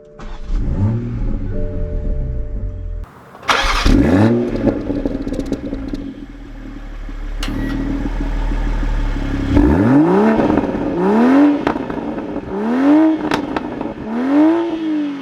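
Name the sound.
2021 Toyota Supra 3.0 driving off and accelerating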